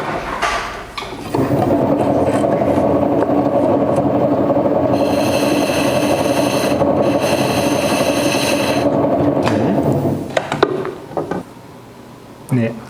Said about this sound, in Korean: 조금만 더 깎아 보겠습니다